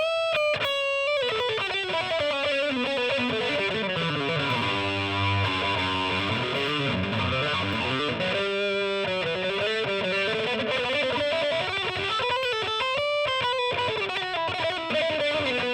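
A heavily distorted electric guitar rings out with long sustained notes and sliding bends, loud and saturated throughout.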